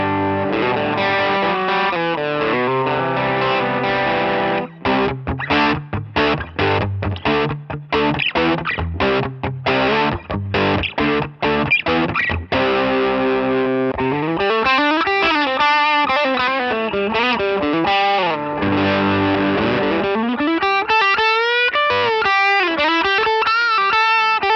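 Heavily overdriven electric guitar, a PRS SE Custom 24 semi-hollow, played alone: choppy distorted chords with sharp stops in the first half, then sustained, wavering bent lead notes later on.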